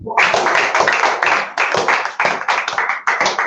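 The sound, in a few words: children clapping for a classmate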